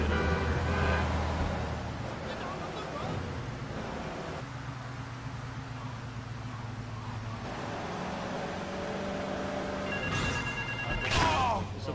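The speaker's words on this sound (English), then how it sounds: "It's a phone ringing." A telephone rings inside the video game Grand Theft Auto 3, a repeating electronic ring heard over engine and street noise, loudest at the start and again near the end.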